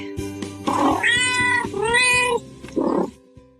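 A kitten gives a few clear, close meows, a rising, drawn-out call followed by shorter cries, with no voices heard.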